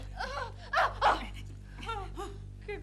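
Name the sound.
dog barking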